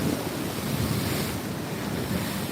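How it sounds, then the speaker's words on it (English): Ocean waves break and wash along the shore where surfers ride, including one on a foil, a continuous rushing roar heavily buffeted by gusting wind noise on the microphone. "here comes a set, so these waves might hit a little bit harder"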